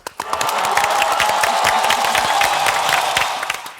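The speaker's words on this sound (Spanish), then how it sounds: "fingimos un aplauso" Applause from a small group of people in a studio, faked for the cameras, with dense clapping starting abruptly, holding steady for a few seconds, then tapering off.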